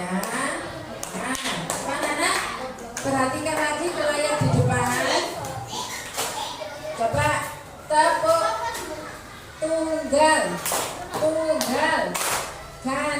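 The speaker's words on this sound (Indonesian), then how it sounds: "Yuk, tepuk tangan untuk kelompok kreatif" Classroom of children clapping for a student group, bursts of hand claps and taps mixed with kids' chatter and an adult's voice speaking over them, fairly close and uneven in rhythm.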